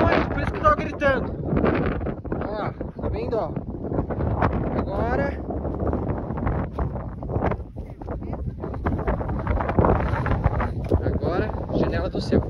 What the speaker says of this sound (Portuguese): O pessoal tá ventando muito, por isso que eu tô gritando.